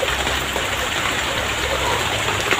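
Steady rainfall makes a dense, even hiss of drops, loud and continuous throughout with no voices over it.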